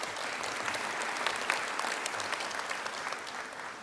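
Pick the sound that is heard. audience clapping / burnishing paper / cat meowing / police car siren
audience clapping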